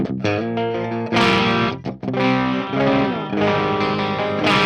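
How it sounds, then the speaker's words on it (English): An electric guitar rings out through a Peavey XXL solid-state amp in vintage clean mode, strummed chords with a warm, slightly gritty tone and some effect shimmer, loud and close. "The vintage mode, vintage clean mode, sounds very tubey"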